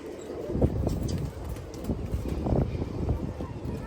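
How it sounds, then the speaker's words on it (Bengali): Breeder pigeons cooing in a farm loft, soft repeated murmuring calls close by amid a busy, rustling background with a little wind. "এগুলো ভাইয়ের মেন ব্রিডার কবুতর।"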